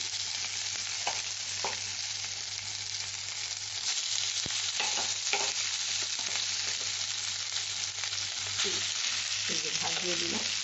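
Rice being stirred into a fish chili paste of small shrimp in a hot pan, a steady sizzle of frying under soft scraping strokes of the spoon, with a few short clinks and scrapes near the end.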